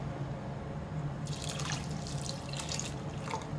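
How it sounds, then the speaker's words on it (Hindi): Water poured into a cooking pan holding soaked urad dal, a steady splashing, trickling pour that starts partway through and continues close and clear over a low kitchen hum. "अब इसमें पानी डालूंगी"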